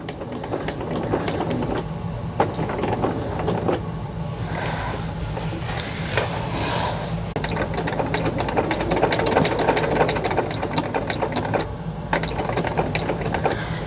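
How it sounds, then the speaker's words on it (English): Sewing machine stitching along an existing seam at 1/8 inch on a handmade tester bag, a steady fast mechanical clatter of needle strokes with rhythmic ticking, running continuously and fairly close, with no talking. "what we're doing right now is just stitching on that same line seam that's already there at that 1/8 of an inch"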